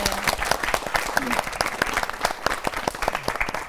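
Audience applause at a church youth lecture, a steady patter of many hands clapping at moderate volume, with a voice faintly audible beneath it.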